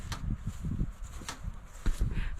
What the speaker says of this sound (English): I'm sure y'all can hear that clicking in the background. It is the fence charger.